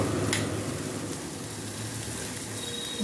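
Fried soya chunks tipped into a pan of spiced masala frying for soya malai curry, giving a steady, loud, close sizzle throughout with no talking.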